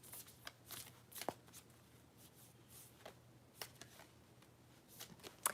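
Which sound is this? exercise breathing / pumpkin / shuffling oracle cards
shuffling oracle cards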